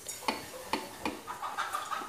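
Sablé dough being mixed in a bowl just after cornstarch goes in, heard as soft, regular scraping strokes about every half second, close by and fairly quiet.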